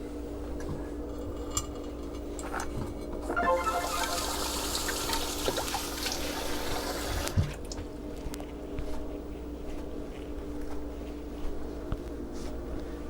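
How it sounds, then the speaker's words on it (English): Tap water runs steadily during hand washing, a hissing rush that starts a few seconds in, lasts about four seconds, then stops abruptly, leaving a quiet room hum. "First things first, gotta wash hands."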